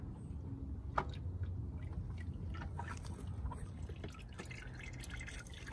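Engine oil draining from the sump of a Land Rover Discovery Sport 2.0T into a pan, a steady low liquid trickle with scattered drips and splashes, quiet and continuous with no talk.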